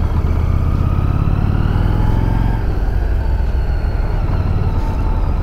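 Motorcycle engine droning close and loud through a turn, a steady throaty hum that shifts and eases slightly midway as the rider speeds up and then trail brakes, with wind rumble.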